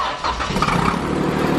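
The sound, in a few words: 2013 Jeep Wrangler engine with exhaust leak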